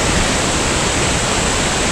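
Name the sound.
waterfall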